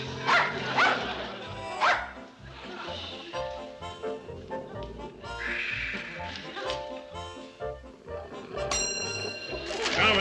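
A dog barks several times in short, loud bursts near the listener, with a bell ringing and people talking in a room between the barks.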